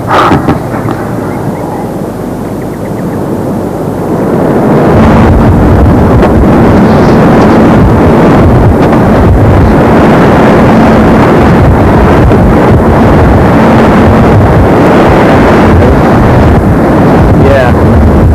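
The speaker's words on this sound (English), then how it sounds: "Stop the engines." Boat engines run in a loud, continuous roar on Acapulco Bay, a quieter rumble for the first few seconds then swelling and holding steady, close and heavy with wind buffeting.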